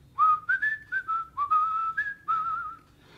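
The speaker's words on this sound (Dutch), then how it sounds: "Of misschien wel te fluiten." A person whistles a short relaxing tune alone, a clear series of bright sliding notes in quick phrases with brief gaps, close and fairly loud.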